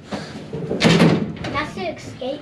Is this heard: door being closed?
yes